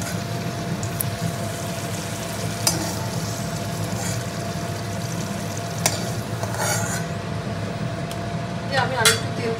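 Large potato chunks fry in hot oil with a continuous sizzle, broken by scraping clicks and clinks of a spatula stirring and lifting them out, heard up close.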